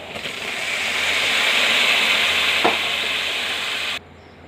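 Tomatoes stirred in a hot pan with tempering seeds, turmeric and ginger paste for tomato curry: a steady close sizzle with a brief scrape of the spoon, cutting off abruptly near the end.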